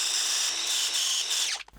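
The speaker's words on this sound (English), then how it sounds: "We'll get a flapper wheel and just clean that up and make sure that chamfer's all right." A flapper wheel grinds the chamfer on a transfer case adaptor for an FJ45 Landcruiser. The close, loud abrasive whine holds steady before spinning down and stopping near the end.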